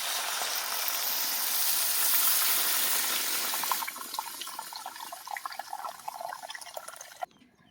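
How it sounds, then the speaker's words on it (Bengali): Water poured into a pan of fried potatoes and country chicken being cooked down for a curry gravy, a steady loud splashing pour for about four seconds that fades into softer bubbling and dripping. "ঝোলের পানিটা দিয়ে দেবো।"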